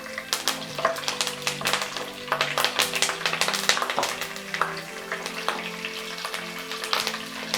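Dried red chillies sizzle and crackle as they fry in hot oil for a tempering, a dense, steady spitting sizzle that runs close and loud throughout with no talking.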